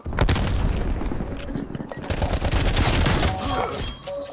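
Gunfire in Black Ops Cold War Team Deathmatch: loud, continuous automatic bursts and booming shots crowd the whole stretch, close and dense with no pauses.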